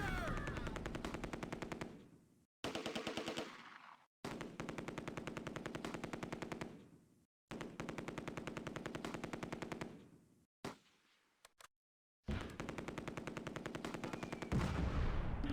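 Machine gun fire in the wartime strategy game Close Combat: A Bridge Too Far, at Nijmegen Bridge during Operation Market Garden: long sustained rapid bursts, loud and dense, separated by brief silent gaps.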